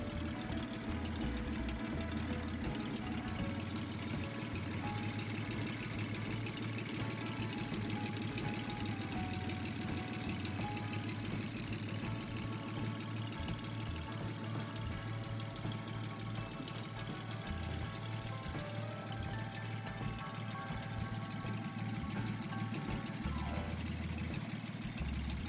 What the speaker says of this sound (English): start the engine. As you can see, the engine runs perfectly